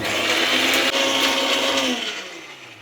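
A mixer grinder grinding spices with water whirs loudly and steadily at close range, then its motor winds down and slows toward the end.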